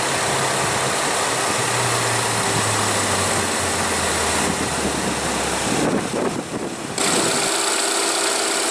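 A 2015 Ford Taurus with the 2.0 L EcoBoost turbo four-cylinder idles with a loud, steady hum and a faint ticking. A brief dip follows near the end, then the idle resumes.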